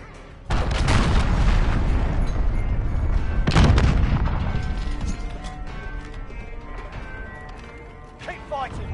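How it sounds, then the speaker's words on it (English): Cruise missile strikes in the Modern Warfare shooter game: two heavy, booming explosions a few seconds apart, followed by rumbling debris and crackling gunfire, with brief in-game voice callouts near the end. "Allied cruise missile away."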